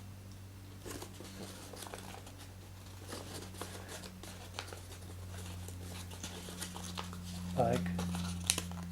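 Sheet of paper creased into an origami mountain fold, soft crinkling and rustling handling sounds close up and quiet, with a person talking softly over it.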